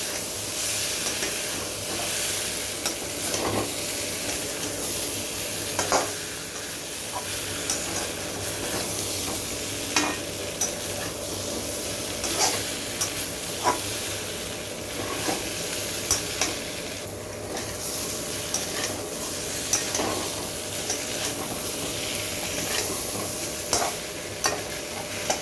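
Fried potatoes and cauliflower being stirred into a curry in a pan, with a spoon scraping and clinking steadily over a continuous close sizzle of frying oil and soft hissing steam.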